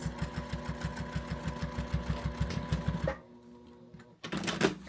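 A home sewing machine quilts a diagonal line in a fast, even pulsing run of stitches for about three seconds, then stops, followed by a short quieter pause and a brief final burst, close and without speech.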